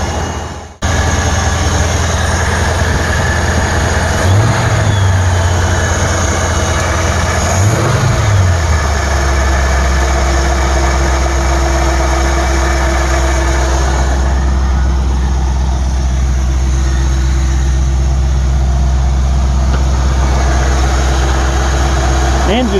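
A car engine with a Chinese-made Ford 2100 carburetor idles before it has fully warmed up, a loud, steady low drone that runs unbroken and briefly rises and falls in pitch early on.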